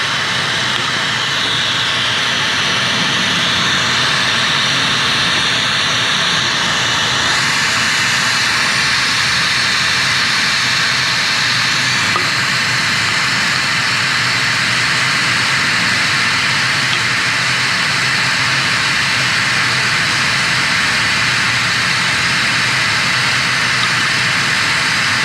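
A lampworking torch flame roars steadily as it heats a glass chess piece, a continuous broadband hiss and rush held at an even loudness throughout.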